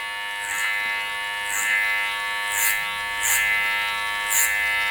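Hair clippers fitted with a number 2.5 guard cut hair with a steady, close electric buzz that swells in short, regular passes roughly every second.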